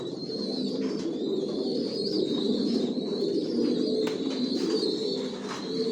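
Inside a loft of Janssen-line racing pigeons, many birds coo continuously in a low rolling murmur, close and moderately loud, with a few sharper wing flutters or chirps breaking through and no speech.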